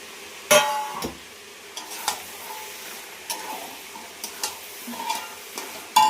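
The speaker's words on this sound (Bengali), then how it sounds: "মশলার থেকে তেল ছেড়ে দিয়েছে, আমি এবার মাংসগুলো দিয়ে দেবো।" Meat drops into hot spiced oil in a pan, with a burst of sound at the start and then a soft sizzle marked by sharp intermittent clinks and scrapes of a spoon.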